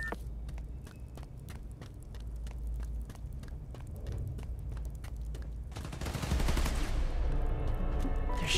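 Video game gunfire from Spider-Man: Miles Morales on PlayStation 5, a steady series of sharp, evenly spaced shots that thickens into a denser, louder burst of noise toward the end.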